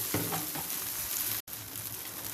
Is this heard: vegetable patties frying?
yes